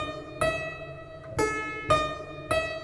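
Clavichord notes struck without wrist movement: four separate plucked-sounding tones in a slow, uneven sequence, close and fairly quiet, each decaying quickly.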